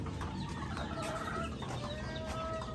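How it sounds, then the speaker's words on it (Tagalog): Brood cock roosters let out on a late-born breeding farm cluck and call steadily at close range, several birds overlapping over a constant background hum. "Pinalabas na po ang brood cock."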